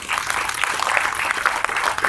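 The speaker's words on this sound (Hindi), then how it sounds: "आप सभी की जोरदार तालियों के बीच में" Close, dense applause from an audience at a World TB Day event honouring a BJP leader, sustained and even throughout.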